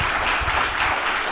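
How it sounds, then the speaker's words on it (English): An audience claps together in a dense, steady wash of applause, loud and close, with no talk over it. "We need to clap for that"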